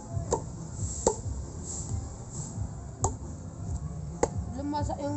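Axe chopping firewood outdoors, several sharp woody chops at irregular intervals over a steady background of ambient noise and faint voices.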